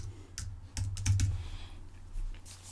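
Keys clatter on a computer keyboard as keywords are typed into photo-management software, a quick burst of separate close clicks with a short pause in the middle and no talking.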